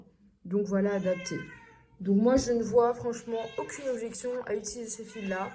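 A house cat meows several times, close by, while someone talks steadily in French over it, the cries partly blending into her speech.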